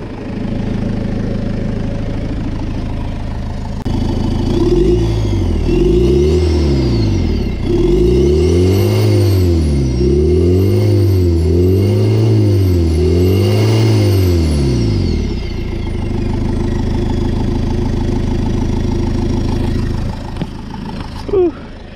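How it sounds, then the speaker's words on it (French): Fiat Ulysse engine with a turbo fitted is revved hard several times in rising and falling surges, loud and close, before settling back to a steady idle. "Je vais donner un coup de gaz pour voir."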